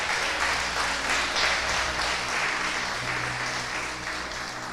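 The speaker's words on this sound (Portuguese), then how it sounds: "Coloque-se de pé no seu lugar e aplauda a palavra de Deus" A church congregation on their feet applauding, steady sustained clapping from a large room, moderately loud and even, with a low organ-like hum beneath and no talking.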